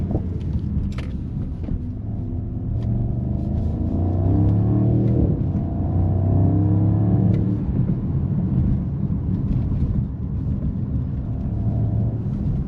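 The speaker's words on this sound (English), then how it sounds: "I'm just gonna let you guys experience the V8 exhaust sound." A 2025 Mercedes-AMG SL 63 S E Performance V8 roadster under way, its exhaust droning loud and near with rising and falling engine pitch as it accelerates through the gears, no voices.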